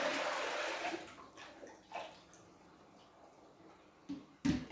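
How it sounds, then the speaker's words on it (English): Water from an aquarium splashes and pours out in a heavy gush at first, then trickles and drips faintly, ending with a few sharp knocks. "We'll dump this water out."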